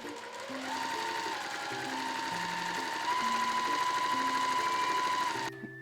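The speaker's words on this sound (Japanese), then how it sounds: "同じように最初は端から5ミリのところで、次はその今縫ったところから5ミリのところを縫っていきます。" A sewing machine stitches a gathering seam on a dress, a close, steady whirring hum with shifting motor pitch, running continuously before stopping abruptly near the end.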